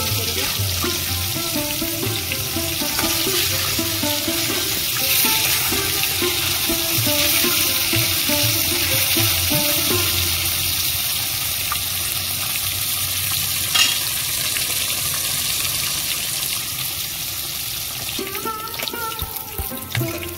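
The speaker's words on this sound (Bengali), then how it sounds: "তেল গরম হয়ে গেছে, মাছগুলো ভেজে নেব।" Fish fries in hot oil with a loud, steady sizzle and crackle that carries on throughout, with a brief scrape of stirring near the end.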